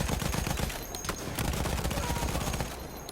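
Rapid bursts of gunfire from Battlefield 1, a World War I shooter, crackle loud and close in a dense, continuous rattle for a few seconds, with no talk over it.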